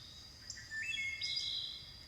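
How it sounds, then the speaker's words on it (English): Birds give a few faint, high chirps and short tweets over a quiet outdoor background. "listen to the birds chirping through the video"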